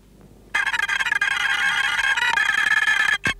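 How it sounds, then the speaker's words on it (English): Music on tape played back at eight times normal speed in a scale-model acoustics studio, a bright, high-pitched steady wash lasting about three seconds before stopping abruptly. "The tape is put on a special tape recorder and played back 8 times faster than the speed it was recorded."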